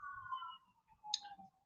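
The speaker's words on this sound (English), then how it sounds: "And we get the sirens." A distant emergency vehicle siren sounds faintly from outdoors as a wavering tone that fades within a couple of seconds, with a brief sharp click near the end.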